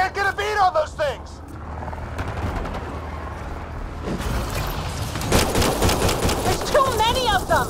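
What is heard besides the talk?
gunfire in Mass Effect: Andromeda video game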